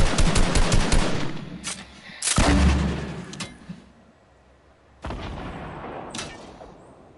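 Video game gunfire, rapid machine-gun bursts with booming heavier shots up close, loud and clattering, pausing into quieter stretches before another sustained burst resumes.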